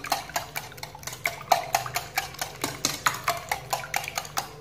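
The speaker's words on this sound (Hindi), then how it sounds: "अब इसमें डाल दूंगी ये हाफ कप दूध, फिर इसको अच्छी तरह मिक्स कर लेंगे।" Half a cup of milk being stirred into a mixture in a bowl, a quick steady rhythm of light clinking strokes from a utensil against the dish, close and moderately loud.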